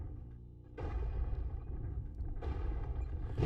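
Airstrike and tank strike explosions in a combat video game, two heavy booming blasts in quick succession with rumbling low tails, loud and close with no talk.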